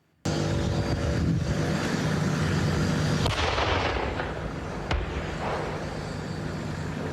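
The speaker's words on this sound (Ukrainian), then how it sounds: "Ось це кадри справжнього танкового бою з окупантами посеред спекотного українського степу." Loud, continuous rumble of heavy gunfire and booming explosions from a tank battle on the hot Ukrainian steppe, with engine roar underneath and a sharp crack partway through.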